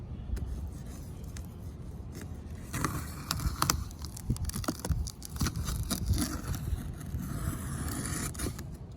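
A knife slices open the cardboard box of a new set of wheels for an Infiniti Q50, giving quiet scraping and cutting strokes over low background noise.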